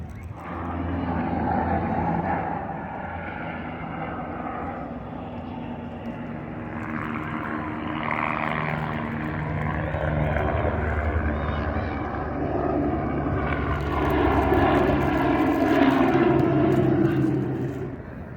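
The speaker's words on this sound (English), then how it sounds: "So there is a helicopter landing somewhere on the other side of the river, and every few minutes, choppers taking off." A helicopter takes off across the river at a Brooklyn Heights pier, its distant rotor thrum and engine roar rising and swelling over a broad outdoor rumble for the whole stretch.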